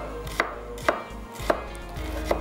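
Onion being sliced on a cutting board with a knife, four crisp, evenly spaced chops standing out clearly over a low background hum, with no talking.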